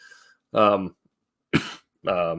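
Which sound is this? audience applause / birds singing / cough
cough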